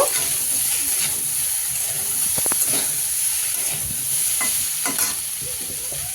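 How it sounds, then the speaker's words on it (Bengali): Chopped onion is stirred into vegetables frying in oil, a steady hissing sizzle under occasional spatula scrapes and clicks, close and continuous, with no speech. "পেঁয়াজ কুচিটা দিয়েও ওর সাথে মিশিয়ে নেব"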